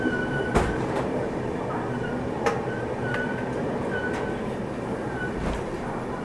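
A train passing through a railway station, a steady rumble of wagons with periodic clicks and clanks from wheels over rail joints and a faint high squeal, moderately loud and continuous, with no talking.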